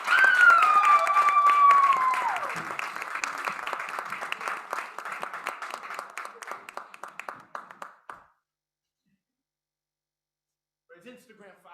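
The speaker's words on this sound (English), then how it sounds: "Keep clapping as Sam makes his way to the mic." Applause from an open mic audience in Harlem as a performer heads to the mic, dense clapping fading over about eight seconds, with music and a voice over it at first, then silence before faint sounds return.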